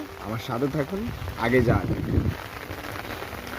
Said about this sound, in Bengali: আর বৃষ্টি কিন্তু লাগাতার হতে চলেছে।